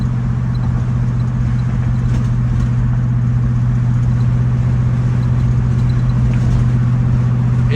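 A 1970 Pontiac LeMans V8 holds steady in third gear, giving a continuous loud low engine drone with a strong even hum and constant road noise throughout, no voices.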